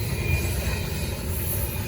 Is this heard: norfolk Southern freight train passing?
yes